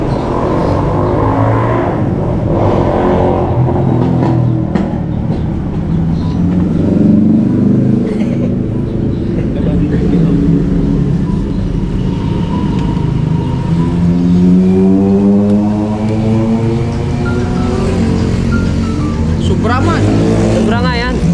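A Toyota Fortuner's engine runs loudly close by, its tone rising and falling in pitch as it revs, with people talking over it throughout.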